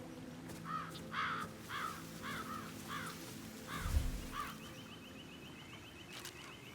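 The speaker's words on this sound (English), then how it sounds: "Damn birds! If I could just get a clear hit on those nests." Crows caw repeatedly in an outdoor scene in Hitman 3, a string of harsh calls at a steady pace across a background of ambient game sound, with a dull thump partway through.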